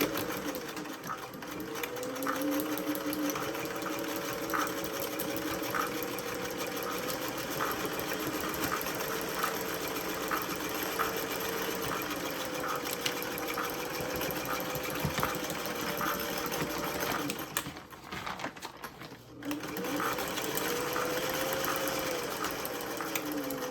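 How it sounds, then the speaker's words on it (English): A sewing machine runs a straight lock stitch down the edge of a feed bag tote, a steady fast mechanical whir and rattle running continuously, briefly dropping out near the end before resuming, with no voice. "You're going to do your lock stitch and then sew that straight stitch all the way down"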